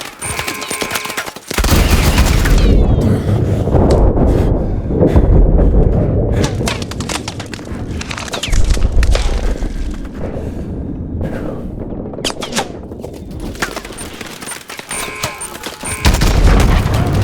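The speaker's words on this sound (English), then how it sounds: "Hit the Titan with the launcher!" Launcher fire and explosions rain on a Titan during combat in Call of Duty: Advanced Warfare, with loud repeated booms and gunfire bursts layered into a continuous dense battle din.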